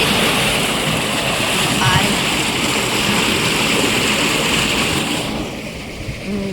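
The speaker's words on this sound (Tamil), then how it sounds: "இந்த சைடு எப்படி கொப்பளிச்சு கொப்பளிச்சு வருதுன்னு பாருங்க" Spring water wells up and bubbles at the head of a canal, a dense, continuous rushing and gurgling wash, close and loud, easing slightly near the end.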